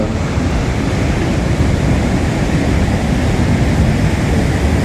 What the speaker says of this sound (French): Là, il y a des sacrées vagues qui arrivent derrière.